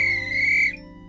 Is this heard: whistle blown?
yes